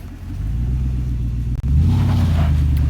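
A Lexus LX470 engine rumbles low and steady as the SUV crawls over an off-road obstacle at Little Moab, with a brief dip and then a deeper, louder revving push as it climbs.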